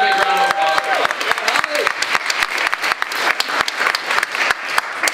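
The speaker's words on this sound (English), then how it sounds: "Another big round of applause." A round of applause breaks out at a launch event in Beijing, sharp individual claps thickening into steady clapping, with a brief tonal sound and some voices underneath at the start.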